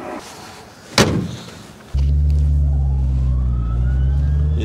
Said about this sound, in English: Is that the gearbox? Isn't that straight cut?